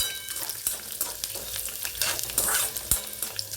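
Garlic frying in a pan for sambar rice makes a close, crackling sizzle with quick stirring scrapes and a sharp clack or two.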